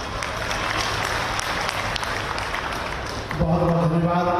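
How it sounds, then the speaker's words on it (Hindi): Audience applause at a Shrimad Bhagwat Katha gathering in Mansarovar: dense, sustained clapping from a large crowd fills the whole stretch, with a tonal sound rising over it near the end. "एक बार पुनः जोरदार तालियों से।"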